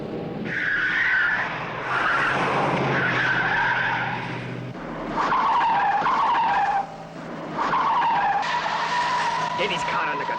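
Tyres screech as a car skids out of control in a Thunderbirds puppet adventure, long loud squealing bursts repeating across the scene with brief gaps, a voice speaking over part of it.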